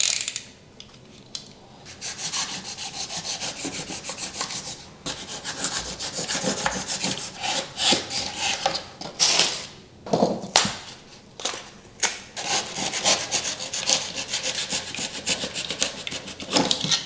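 Utility knife scoring and cutting through hard, overnight-cured material on a floor during a vinyl plank, laminate or engineered floor installation, heard as close, continuous rasping and scraping strokes with uneven bursts of loudness.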